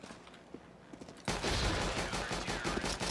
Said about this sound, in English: I was shooting my gun so he wouldn't expect you there.